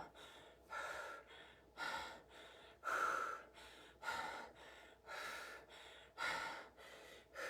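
Heavy, rhythmic breathing right after a cardio HIIT workout: about ten loud, close gasping breaths in steady succession, each a rough airy rush of inhale or exhale.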